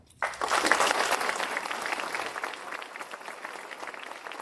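An audience at a community accelerator and childcare business ribbon cutting breaks into loud, dense applause from many people nearby, starting abruptly and holding steady before slowly thinning out.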